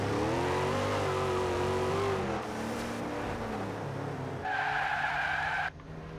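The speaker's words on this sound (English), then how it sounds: "Second gear and spins tires." A car in Forza Horizon 2 revs hard in second gear and spins its tires, with a rising engine whine giving way to sustained tire squeal and skidding, loud and close.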